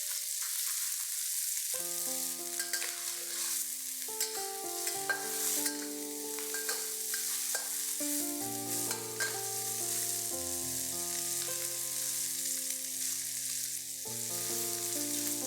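Pork belly sizzles in a tablespoon of oil in a pan while being stirred, a steady frying hiss running beneath loud background music throughout.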